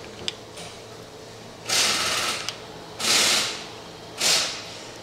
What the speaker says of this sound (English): So again, we turn the crankshaft.